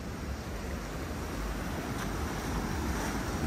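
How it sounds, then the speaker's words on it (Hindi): Strong sea waves rush in on a Goa beach, a continuous broad roar of surf mixed with wind buffeting the microphone, loud and close, with no voices over it. "फुल तेज पानी है भाई फुल तेज।"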